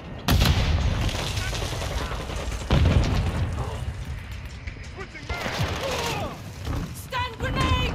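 Gunfire from a PDSW 528 in Call of Duty Modern Warfare 2, with rapid bursts and booming shots rattling throughout the clip beneath a man's steady, close talking.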